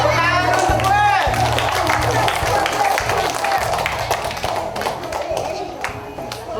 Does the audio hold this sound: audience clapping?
yes